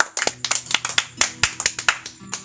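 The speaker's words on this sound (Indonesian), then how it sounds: "Kasih aplaus lah buat teman-teman." Audience applause at a small stage show in Jepara, with close, uneven hand claps in a quick rhythm and no talk.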